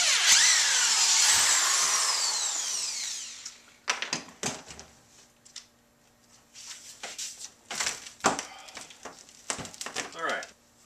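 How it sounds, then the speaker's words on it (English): A power drill backs screws out to free a plaster-sealed bucket from a tabletop: a loud whirring opening, then several short bursts of drilling and clattering separated by quiet gaps. "I am unscrewing the bucket from the tabletop."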